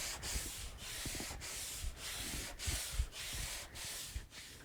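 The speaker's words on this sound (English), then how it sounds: "I just did a final pass with 180 grit sandpaper" A wooden guitar top is hand-sanded with 180 grit sandpaper on a block, giving steady rhythmic back-and-forth scratchy strokes, close and fairly quiet, with no talking.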